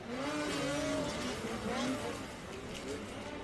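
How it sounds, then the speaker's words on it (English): Race cars lapping the track on the first lap of a Pro-Am Plus 30 final at ERX Motor Park, engines whining and rising in pitch at a distance, heard beneath a commentator talking. "But Andy Leaders going to take that race lead over Devin Denman here on lap #1."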